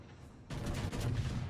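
Warship turrets fire in a naval battle game, a sudden deep boom that rolls into a sustained rumbling blast lasting about a second, heard alone.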